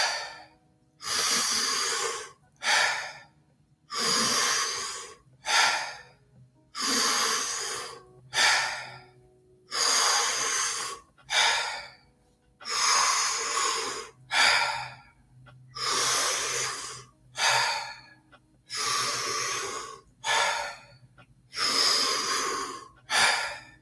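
Deep rhythmic breathing during a Wim Hof breathing workshop: about fourteen forceful inhale-exhale cycles in a steady, paced rhythm, each breath rushing loudly and close, separated by brief quiet gaps.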